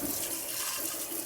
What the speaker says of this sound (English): I'm putting this in hot water.